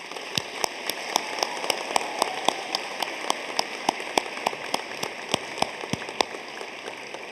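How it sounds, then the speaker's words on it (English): Applause from a commencement audience, heard as a steady wash of sharp, separate claps at a moderate distance with no voices over it. It keeps a fairly even level throughout. "I'm gonna ask for your most sincere and joyous applause for the beautiful community in the audience"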